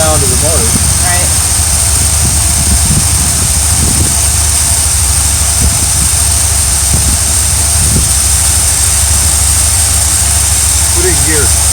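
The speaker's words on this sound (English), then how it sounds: "There's wind noise. I'm really sorry, guys. Oh, and the sound of the motor." A motorhome engine runs steadily throughout, a constant loud drone mixed with heavy wind buffeting, with no speech.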